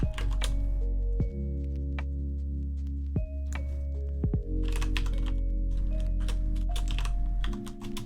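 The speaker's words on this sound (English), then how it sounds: "I like having a keyboard that has some clickiness to it" Clicky computer keyboard typing in a streamer's setup, with bursts of crisp, close key taps and occasional louder thunks over a steady low hum, continuing alone for the whole stretch without talk.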